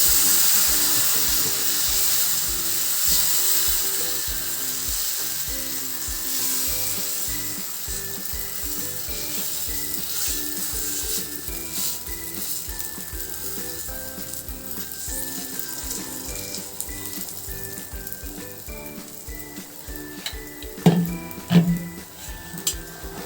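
Patishapta batter of flour sizzling in a lightly oiled hot pan, a steady close frying hiss with faint crackles that softens gradually, and a few louder clatters near the end.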